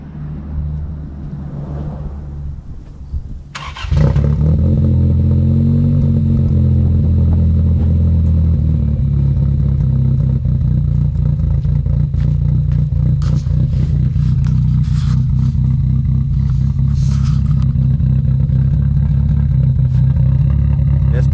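A newly bought car's engine starts after a short quiet stretch with some low rumble, then settles into a loud, steady, throaty idle with occasional blips of revving close by.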